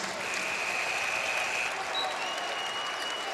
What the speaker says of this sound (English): the crowd is re-engaged